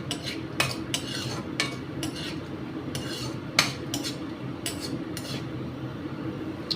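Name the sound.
cashews frying in ghee, stirred in pan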